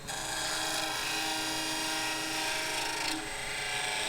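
A scraper cuts a segmented tulipwood vessel spinning on a wood lathe, making a steady, close, rasping hiss over the lathe's constant hum, with a slight change in texture near the end.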